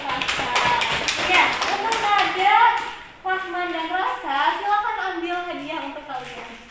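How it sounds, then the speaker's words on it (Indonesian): A classroom of students claps for a classmate winning a prize: dense, steady hand-clapping for about three seconds, then fading into children's chatter and voices. "Tepuk tangan untuk Nada."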